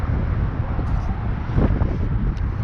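Strong wind buffets the microphone at a riverside, a loud, rough, low rumble with gusty surges throughout the few seconds and no other distinct sounds.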